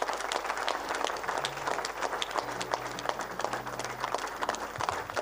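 A church congregation at an evangelical service claps steadily and continuously, a dense, even wash of many hands with faint voices and music underneath.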